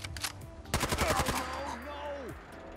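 A modded SCAR-L rifle firing 5.56 rounds in Fallout 4: a fast, close burst of automatic shots, followed by a ringing tail and a falling whine. Faint game sounds come before the burst.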